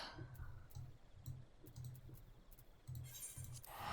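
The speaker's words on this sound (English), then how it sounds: "Probably hear you typing it up in the background." A computer keyboard is typed on faintly in the background, a light irregular patter of soft clicks over a quiet room tone with no talking.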